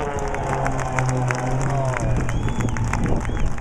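Large outdoor crowd cheering and applauding at an evening air display as the 2012 Blades aerobatic team pull up, a dense continuous roar of claps and shouts with a low engine drone beneath.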